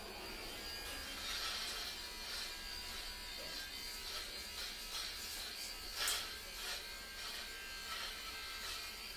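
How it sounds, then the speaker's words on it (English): A baby hair trimmer buzzing steadily at low volume, a thin constant electric hum with faint handling noises and brief clicks throughout. "All right, we're gonna try the baby trimmer."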